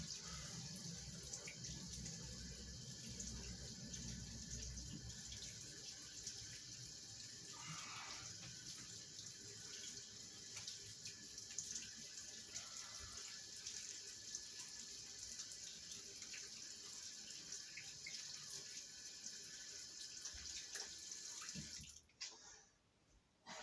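A bathroom sink tap runs steadily while a man shaves, producing a continuous close, moderate rush of water that abruptly stops near the end.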